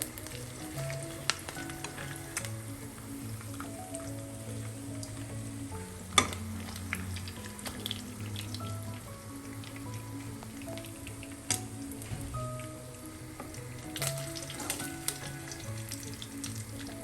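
Kingfish coated in masala fries in a pan with a continuous low sizzle and bubbling, broken by occasional scrapes, taps and stirring clatter, heard up close with no speech.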